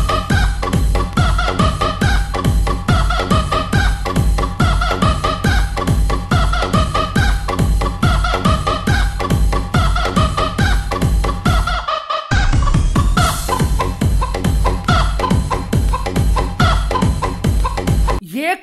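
Loud, dense clucking from many chickens with a rooster crowing, a constant busy farmyard chorus with a brief break near the end.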